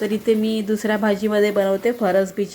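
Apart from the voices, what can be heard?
No everyday noises stand out.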